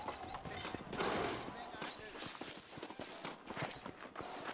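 A horse in the video game Red Dead Redemption trots up after a whistle call, its hooves giving a steady clip-clop rhythm. Someone talks over the hoofbeats for the whole stretch.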